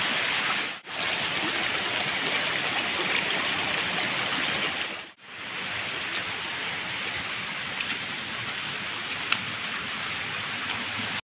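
A stream flows steadily in a steady, broad rush of water, close and constant, with two brief dips in level.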